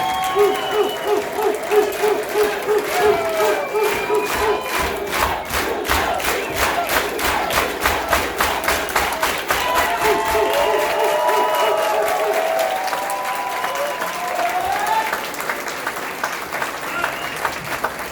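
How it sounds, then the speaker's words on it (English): A crowd of union workers at the Culinary Union Hall in Las Vegas breaks into loud, sustained applause with cheering and shouts, dense rapid clapping that carries on throughout. "Let's stand up and let's give them a big union hand clap."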